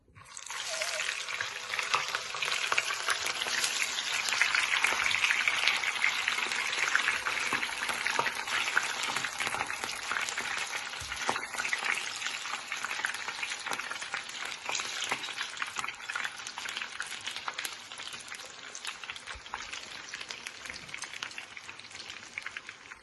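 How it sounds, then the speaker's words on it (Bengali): Potatoes fry in hot oil with a dense, continuous sizzle much like heavy rain, loud at first and easing slightly over time, with occasional stirring clicks and no voices. "তো এখন বাকিগুলো একটু লাল করে ভাজবো"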